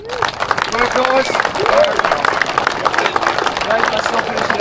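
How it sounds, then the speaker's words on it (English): An audience at a Cliffhanger 2025 briefing claps and cheers for the 88 participants, a dense crowd sound with someone talking loudly over it. "a huge round of applause to you all"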